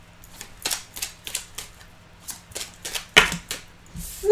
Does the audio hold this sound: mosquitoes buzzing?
no